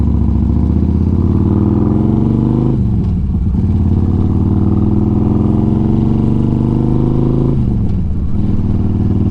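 Built 2009 Harley-Davidson Road Glide motorcycle being ridden, a loud deep engine rumble that rises through revs, drops at a gear change, climbs again and shifts once more.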